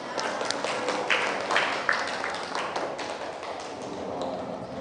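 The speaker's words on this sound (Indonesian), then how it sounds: "Kasih tepuk tangan." A classroom audience claps together after a student group's presentation during a teaching practice session, producing a steady, dense patter of hands that stays fairly even throughout with no voices on top.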